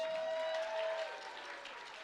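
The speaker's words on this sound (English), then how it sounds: "Please give her a round of applause" Brief, steady audience applause at the BASH 2023 Round Rock Drums event for the MC, with a thin sustained tone ringing over the first half.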